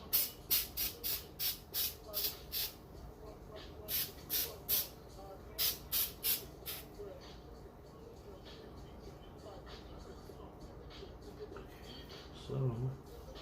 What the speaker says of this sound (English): So when I spray the disinfectant,